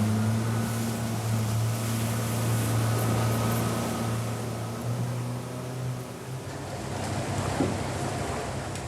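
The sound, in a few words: turbulent water, huge amount of water moving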